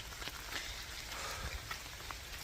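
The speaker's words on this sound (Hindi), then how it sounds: "बारिश हो रही है अभी भी" Rain falling on a forest trail during a mountain hike near Hallstatt, Austria, a faint, steady hiss of drops with occasional soft patters, no voices.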